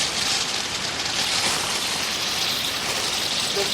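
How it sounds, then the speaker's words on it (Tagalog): Overflowing water rushes along a hiking trail in Nepal, a steady loud broadband wash that stays continuous and close throughout with no talk over it. "Grabe, overflowing ang tubig dito,"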